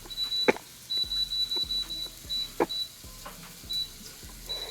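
An air fryer being set up for fries gives short, high electronic beeps at intervals, with light handling clicks and knocks in a quiet kitchen.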